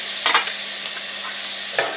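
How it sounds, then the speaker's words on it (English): Chopped onion and green, yellow and red bell peppers hit a hot pan, with a sharp burst of sizzling and stirring clatter at the start, then a quieter steady hiss and another short stir near the end. "I'm going to add, there's our onion, and there is our green and yellow and red peppers that we chopped."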